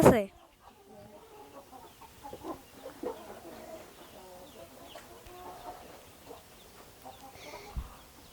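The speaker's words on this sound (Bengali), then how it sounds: "আপনারা দেখুন এটি টাইগার মুরগি কি সুন্দর" Tiger breed chickens clucking in a series of soft, close calls scattered across the scene, with low farm background noise.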